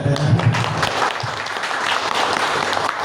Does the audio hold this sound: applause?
yes